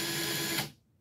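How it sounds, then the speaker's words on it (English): A power drill spins newspaper strands, twisting them into yarn, with a steady whirring hum that runs loud and continuous before winding down and cutting off abruptly. "And let it spin a little bit, and then take it off the drill."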